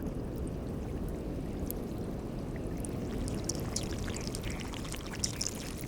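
Melting glacier ice releases centuries-old air bubbles into the water with tiny plops, over a steady close wash of trickling meltwater and scattered fine crackles.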